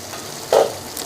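A spoon scrapes once through thick carrot halwa in a pan, a brief soft stir over a faint steady sizzle.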